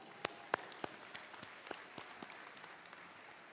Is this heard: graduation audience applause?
yes